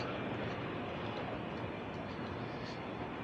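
A continuous rumbling roar of a train passing close by, steady and loud throughout the short clip, near Pudu station.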